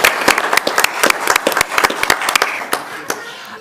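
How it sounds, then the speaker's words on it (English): An audience at a Tooele city council meeting claps in a brisk round of applause. Many close, sharp hand claps fade toward the end, with murmured voices in the room. "So let's give them a round of applause too."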